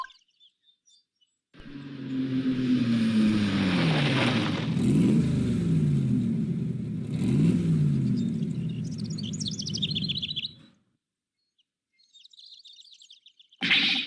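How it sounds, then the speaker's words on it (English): Red sports car arriving in the game Ace Attorney, a loud engine roar revving and sweeping in pitch for several seconds before cutting off, followed by faint bird chirps. "The red sports car"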